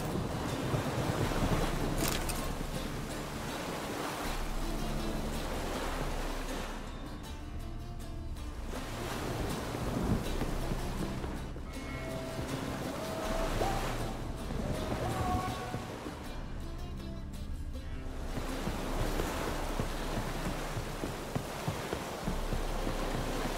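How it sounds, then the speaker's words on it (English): Storm at sea in The Witcher 3, with heavy waves crashing and wind roaring continuously around a boat, loud and close, surging in repeated swells. "Storm, damn it."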